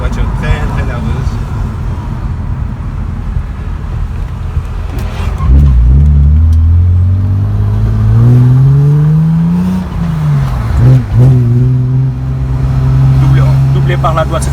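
A car engine revs hard and climbs steadily in pitch as it accelerates, loud and close, with a gear change and talking underneath.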